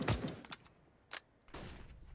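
Gunfire in the video game Counter-Strike during a professional IEM Katowice match: several sharp, close shots in quick bursts separated by brief pauses, with no talk.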